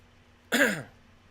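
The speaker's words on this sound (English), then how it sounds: "Sorry for all the coughing." A single short throat clearing with a cough-like burst, close and fairly loud, standing alone in a quiet late-night podcast setting.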